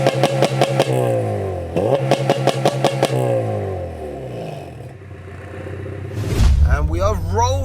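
A supercharged 316 bhp Honda Integra Type R DC5 with a K20 engine idles with a rough, pulsing rumble, then revs and pulls away with a rising engine note, close and loud, with someone talking over it.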